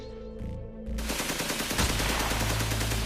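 Rapid automatic gunfire from soldiers at a checkpoint bursts out after a brief pause and continues in dense, relentless volleys, loud and close.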